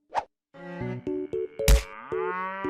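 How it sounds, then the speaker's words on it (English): Several cattle on a farm moo in a string of loud, overlapping calls as they wait to be fed in the morning, with a sharp plop-like thud partway through. "This farmer's cows are just a little excited about breakfast."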